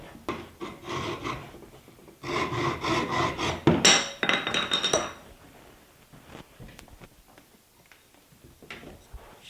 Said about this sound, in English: I need to cut my dowel rod to the right length.